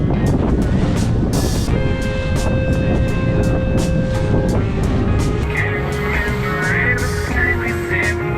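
A boat cruises north toward the Fort Lauderdale sandbar, hull and engine noise mixed with rushing water and heavy wind buffeting the microphone, loud and continuous throughout.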